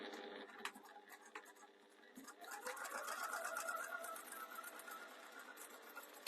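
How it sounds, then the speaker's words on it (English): A sewing machine stitching the raw edge of a jewellery pouch runs in a quiet, steady whirring patter with a few faint clicks, close by and alone without talk. "we're going to stitch down the raw edge there."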